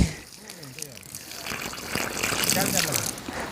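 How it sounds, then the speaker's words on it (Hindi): Water gushing out of a newly joined pipe outdoors in a hill village, a broad rushing flow that swells over the seconds, with people talking and exclaiming over it. "आखिरकार पानी जो है वो आ ही गया।"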